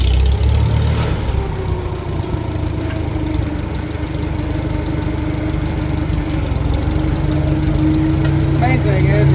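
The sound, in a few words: tractor engine starting and running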